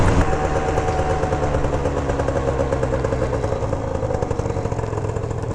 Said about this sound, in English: This thing sounds like a Chinese moped right now